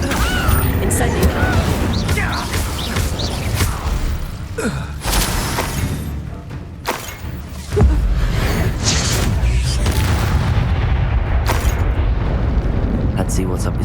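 Spell blasts in the game Hogwarts Legacy, including Confringo, Incendio and Levioso casts, burst out as repeated booms and crackling whooshes during combat, loud and close, with a voice calling out between them.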